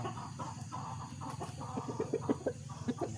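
A seven-month-old rooster clucks and calls in short, throaty bursts, fairly close, over a steady low background hum.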